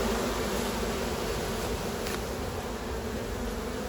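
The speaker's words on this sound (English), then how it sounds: "You see bees are coming in with pollen on their legs as well, which is another good sign." Honeybees drone steadily around the farm hives at Norfolk Park as foragers return with pollen, a dense continuous buzz close by with no voices.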